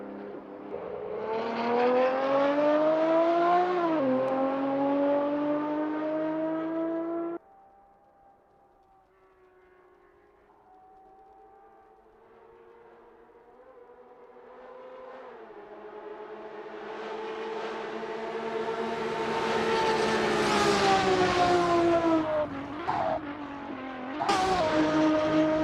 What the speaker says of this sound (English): Wayne P is getting to grips with the BMW M1 Procar in this practice session